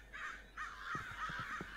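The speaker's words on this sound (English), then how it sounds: "Oh my god, the fucking crows." Crows cawing in Minecraft, a string of harsh, repeated caws from a few birds, fairly close and loud over a faint background hum.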